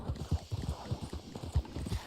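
Close, rhythmic hoofbeats of a galloping horse in Red Dead Online drum steadily in quick succession over a constant rushing background noise.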